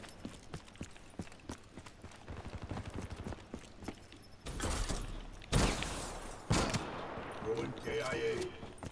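Rapid gunfire from the Call of Duty: Black Ops 3 video game, starting as a run of quick shots and then swelling into heavy, loud bursts near the end, with voices talking over the action.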